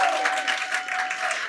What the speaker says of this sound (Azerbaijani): Alqışlarınız çox zəifdir.